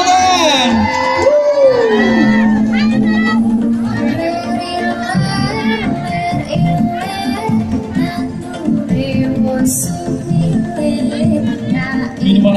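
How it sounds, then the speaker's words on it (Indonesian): A crowd at Festival Wedangan Jogja, a traditional drinks festival, cheering for a bartender show, with excited shouts and whoops from many voices, including high children's voices, and no distinct clapping. "Ayo beri tepuk tangan."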